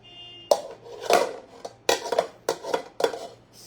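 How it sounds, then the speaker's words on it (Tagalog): A casserole pot and dishes clatter and clink in a home kitchen, with several sharp metallic knocks and rattles spaced irregularly, close and fairly loud with no talking. "Kaserola."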